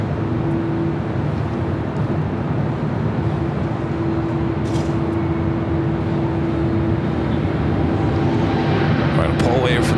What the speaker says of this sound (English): There is a American 777-300ER rolling down to 25 right.